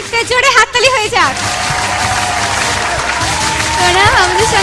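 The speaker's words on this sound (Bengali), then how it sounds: "দর্শক বন্ধুরা, সোনামের জন্য একটা জোরে হাততালি হয়ে যাক।" A broad wash of audience applause fills a televised dance show, steady and sustained, while a voice and music play over it at the start.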